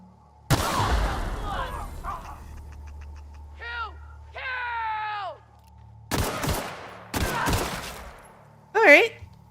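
Gunfire from shooting enemies in The Outer Worlds video game: a loud opening burst followed by separate bursts of rapid shots spread across the clip, mixed with strange creature cries and other game effects.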